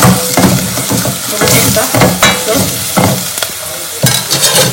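Masala with chilli and coriander powder is stirred in a hot pan: loud, close frying crackle broken by rhythmic scraping strokes of a spatula, about one every second.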